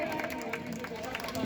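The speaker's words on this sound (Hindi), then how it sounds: "हमारी नन्ही कवि के लिए तालियां बजाइए भाई।" A crowd claps steadily for a young girl reciting poetry at a kavi sammelan in Lucknow, a dense, continuous patter of hands that stays level throughout with a faint murmur of voices mixed in.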